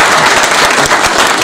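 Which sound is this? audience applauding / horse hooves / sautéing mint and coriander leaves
audience applauding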